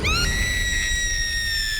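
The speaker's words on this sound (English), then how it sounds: "the sound of his daughter's scream" A girl's high, sustained scream with a sharp onset, rising briefly then holding a steady pitch for nearly two seconds over a low rumbling background.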